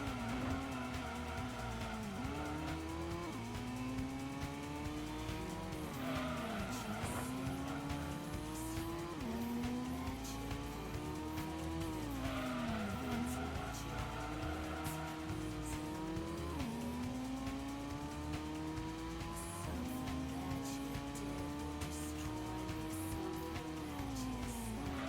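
A race car in the 1997 PlayStation Gran Turismo drives a lap, its engine whining steadily up through the gears and dropping at each shift, continuous and loud with no talk.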